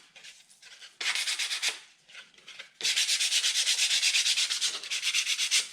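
Hand sanding of a painted MDF box, the abrasive rubbing in quick back-and-forth bursts: a short pass, a pause, then a long steady run of rhythmic scratching strokes, close and fairly loud with no talk.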